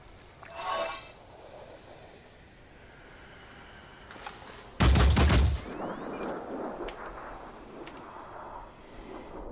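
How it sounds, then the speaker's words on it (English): Shots from a PDW in the video game Phoenix Point: a short burst near the start, then a louder, heavier burst midway, with faint clinks and game effects scattered through the background. "PDW guy here should fire 4 times"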